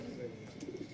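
Pigeons coo faintly in a brief burst on a rooftop loft, a low warbling murmur among soft background noise.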